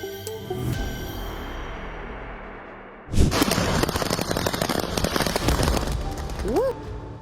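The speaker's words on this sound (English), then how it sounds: "The crash ignited the fireworks, creating an intense, hour-long display for stranded drivers." A rapid, dense string of crackling fireworks bursts erupts from a crashed truck's fireworks cargo on a highway, popping continuously, loud and chaotic, with a whistling rocket rising near the end.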